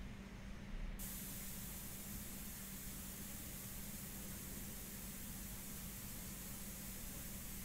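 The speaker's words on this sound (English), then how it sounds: "Let's go ahead and make sure we test out the airbrush off the surface when we do our initial." Airbrush spraying India ink in a test burst off the paper, a steady close hiss that holds evenly for the whole stretch.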